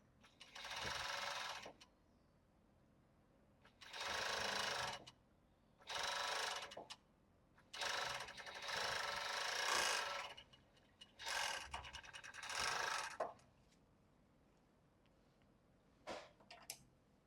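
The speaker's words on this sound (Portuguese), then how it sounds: "vamos costurar, unindo aqui o tule com a renda" A sewing machine joins tulle to lace for a bra cup, running in roughly seven short, steady bursts of fast stitching separated by quiet pauses, close and alone.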